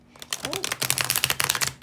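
Tarot cards from the Dreamkeeper's Tarot deck are riffled in a quick shuffle, giving a rapid run of crisp, close-up flicking clicks, with a brief voice heard early on.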